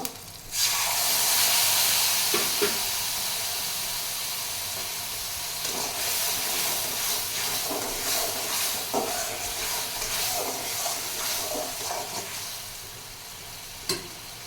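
Mustard water is poured into a hot pan of fried greens, bursting into a loud hissing sizzle that settles into steady bubbling crackle with occasional stirring knocks.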